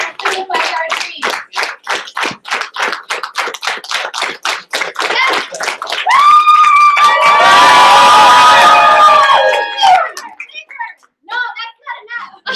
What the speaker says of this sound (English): we're going to celebrate so loud, we're going to scream so loud